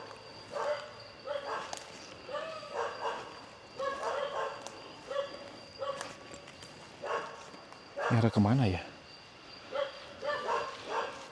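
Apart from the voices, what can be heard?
dog howling and barking in forest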